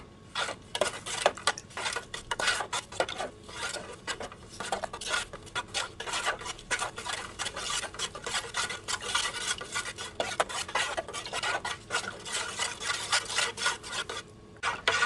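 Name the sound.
spoon stirring coconut milk with sugar and salt in pot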